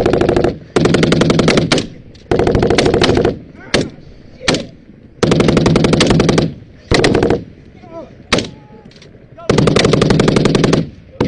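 A machine gun fires during a US Army battle with the Taliban in long rapid bursts broken by short pauses, very loud and close, with brief shouts between the bursts.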